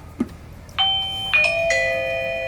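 A Eufy video doorbell chime rings after the button is pressed: a short click, then a clear multi-tone ding-dong melody of three bright sustained notes close up, with no talk.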